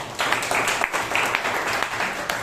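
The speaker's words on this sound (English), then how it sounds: "So give her another big round of applause." Brief burst of audience clapping at a Toastmasters club meeting, a steady rattle of many hands at moderate loudness throughout the short stretch.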